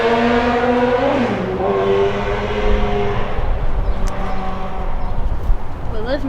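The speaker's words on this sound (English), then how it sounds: "it's a very straight shot highway, so people love to race up and down it" Passing cars on a straight highway beside a home roar and whoosh steadily in a continuous, fairly loud wash of engine and road noise, with a couple of vehicles swelling past near the end.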